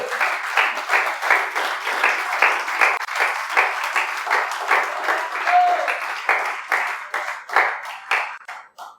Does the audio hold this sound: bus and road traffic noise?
no